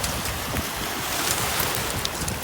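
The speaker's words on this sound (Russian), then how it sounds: "ветер теплый, волна идет. Вот такая волна." Waves roll on Lake Baikal in a warm wind, giving a continuous broad wash of surf with gusty wind noise buffeting the microphone and no speech.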